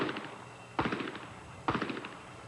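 Two sharp, loud gunshots about a second apart at an outdoor moving-target shooting competition held in 1985, each crack fading quickly into a brief echo, with no talking.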